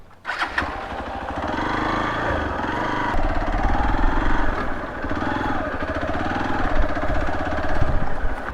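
A Hero Xpulse 200 motorcycle is ridden out of the Ananthagiri Hills, its single-cylinder engine loud and close, pulsing steadily with rises and dips in throttle and no voices.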